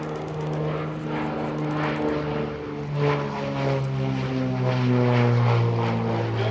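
Loud, sustained propeller aircraft engine drone at the EAA AirVenture airshow with a buzzing harmonic tone, pitch wavering slightly as it passes nearby, no speech.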